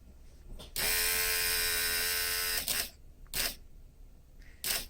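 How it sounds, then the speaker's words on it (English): A small electric brake vacuum pump in a Mitsubishi 3000GT with an electric conversion starts with a sharp click and runs as a loud, steady mechanical whine for almost two seconds before cutting off, followed by several brief bursts. "here's the pump wired up"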